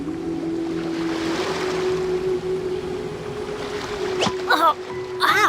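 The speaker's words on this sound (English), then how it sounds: "The sound of the ocean waves." Ocean waves wash steadily in the Genshin Impact video game, a continuous surf roar that holds throughout, joined near the end by a brief sharp hit and a few short chirping tones.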